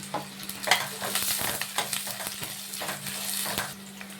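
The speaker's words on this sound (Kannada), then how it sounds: "ಇದಿಷ್ಟು ಫಸ್ಟು ಸ್ವಲ್ಪ ಈ ಆನಿಯನ್ನ ಫ್ರೈ ಮಾಡ್ಕೊಂಬಿಡೋಣ" Sliced onions and curry leaves frying in hot oil in a pan, a steady close sizzle with scraping stirs and a low hum throughout.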